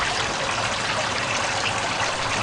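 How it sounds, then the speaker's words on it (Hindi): Gutter water flows steadily through an open street drain, a continuous close rushing wash with no breaks and no voices over it. "इस गटर का पानी इस तरफ जा रहा है"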